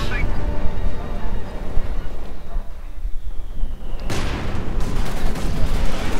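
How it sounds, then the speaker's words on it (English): Continuous gunfire from a machine gun rattles through a Company of Heroes 2 battle alongside booming artillery and explosions, with voices talking over the din. "MG firing away there"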